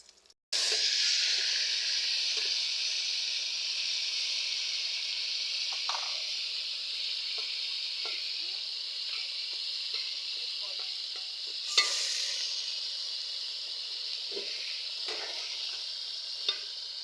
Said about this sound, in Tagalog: Magluluto po tayo ng gulay.